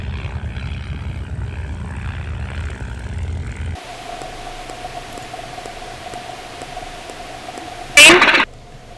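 A de Havilland Tiger Moth biplane, a two-seat trainer with a 130 horsepower piston engine, drones at an airshow in Duxford, UK, a steady propeller hum that drops suddenly before a brief loud burst.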